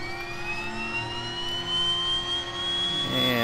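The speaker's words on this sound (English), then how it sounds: "And let's go ahead and engage that starter." The right engine starter of a Twin Otter seaplane in a flight simulator spools up with a steady rising whine, its tones climbing gradually over a low hum.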